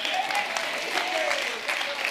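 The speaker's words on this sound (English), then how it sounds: "Clap it up." A theater audience at a TEDx magic talk applauds a volunteer called up on stage, with steady dense clapping throughout, moderately loud and filling the space without a break.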